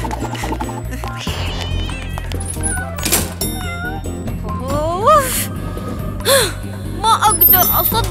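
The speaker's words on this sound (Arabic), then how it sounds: "ما أقدر أصدق إن قطوة دخلت المكتب" A cartoon cat meows repeatedly inside an office, with several rising, wailing cries over busy background music and effects.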